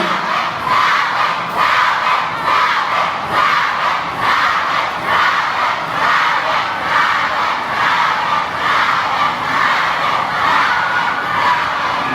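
A large crowd at a mall event shouts and cheers together in a loud, continuous roar with rhythmic surges, like a chant rising and falling.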